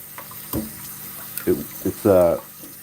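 Warm water runs from a tap while dishes are washed in a sink, sounding as short intermittent splashes and gushes that end in a louder burst near the end, against quiet background hum.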